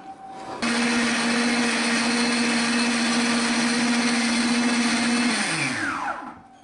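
Kitchen blender puréeing lemon juice and other ingredients for taboulé switches on sharply, then runs at a loud, steady high whir for several seconds before winding down with falling pitch; no one speaks over it.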